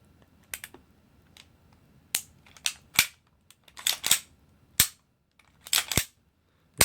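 Sharp, isolated mechanical clacks of a freshly oiled KJW GBB-614 airsoft gas blowback pistol's slide and hammer snapping in dry fire, one at a time and in quick pairs, with quiet pauses between.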